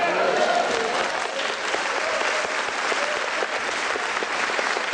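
A church congregation claps in a dense, steady burst of applause, many hands at once at close range, with some crowd voices mixed into the clapping.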